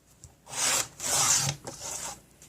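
Paper cut for a handmade card with napkin paper: three close, breathy scraping strokes, each lasting under a second, with short pauses between and no talk.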